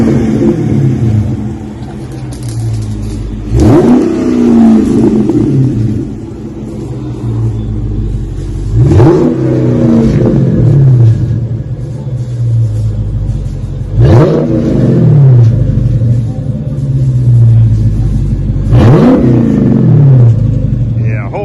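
A 2015 Dodge Scat Pack fitted with Flowmaster Super 44 mufflers, idling with a loud, deep rumble. Four strong revs come at roughly even intervals, each rising fast and then falling back.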